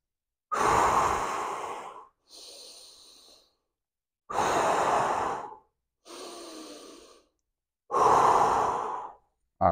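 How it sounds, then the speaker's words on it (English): Deep breathing during an advanced Cossack workout: three long, forceful inhales, each followed by a shorter, softer breath, with silent holds between them, close and alone. "So let's try that for 3 inhales, 3 exhales."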